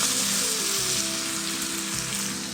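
Hot oil fried with shrimp paste is poured over sambal in a kitchen, setting off a loud, continuous sizzle and crackle that holds steady throughout.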